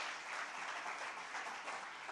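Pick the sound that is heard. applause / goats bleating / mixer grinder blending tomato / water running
applause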